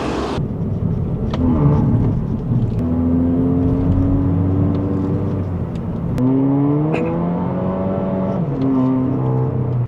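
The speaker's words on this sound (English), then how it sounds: "This is the 2-liter turbocharged petrol motor" An MG7 2.0-litre turbocharged petrol engine with quad exhausts revs up and down, a loud whirring drone rising in pitch with each push, steady and close.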